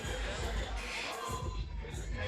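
At a live boxing fight, fans cheer and clap in a steady crowd roar that swells and dips slightly, fairly distant, with no single voice standing out.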